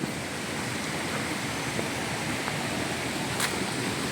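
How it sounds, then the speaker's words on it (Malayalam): Steady, full rush of falling water at the second falls viewpoint of Thusharagiri Waterfalls in Kerala, a constant roar heard alone without voices. "രണ്ടാം വെള്ളച്ചാട്ടത്തിൻ്റെ വ്യൂ പോയിന്റ്"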